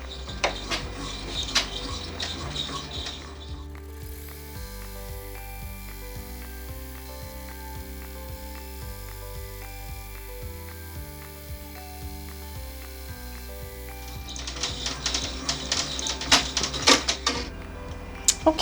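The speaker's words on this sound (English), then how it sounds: "now we're going to get ready to stitch out the tack down stitch for this step" An embroidery machine stitches out a tack-down stitch on a peony mug rug, its rapid mechanical ticking and rattling of the needle running steadily throughout, with louder clattering at the start and finish.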